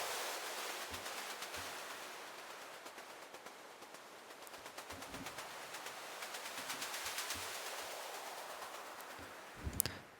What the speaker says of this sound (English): I used several white noises here